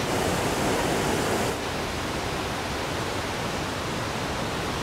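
The Rangeet river near Darjeeling, swollen in the monsoon, rushing in a dense, steady roar of water that dips slightly in level after a moment and carries on alone.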